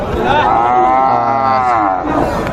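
A cow gives one long, loud, close moo lasting about two seconds at a busy cattle market.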